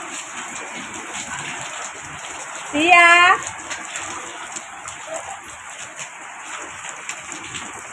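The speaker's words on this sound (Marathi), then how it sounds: "इकडेच पाऊस पडतोय." Steady rain falls outdoors with a constant close hiss of drops, and a short call from a person rises briefly over it.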